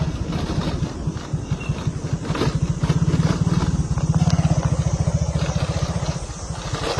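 Motorcycle engine running steadily as it rides along a rain-wet road toward a Khasi village near Jaflong, with a rapid, even putter that stays close and loud throughout, rising slightly in the middle.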